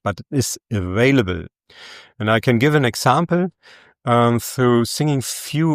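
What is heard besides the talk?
No everyday noise stands out behind the speech.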